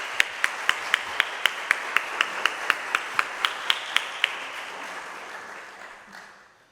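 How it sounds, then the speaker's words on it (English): An audience at a jazz chorus concert claps in unison, about sixteen sharp, evenly spaced beats in a steady rhythm that stop abruptly, leaving a fading wash of room noise. "Give them a round of applause for all that."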